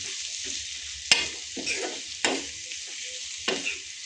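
Chopped egg whites being stirred and fried in a pan for egg masala, a soft sizzle broken by a few sharp spatula scrapes and knocks, close and alone without talk.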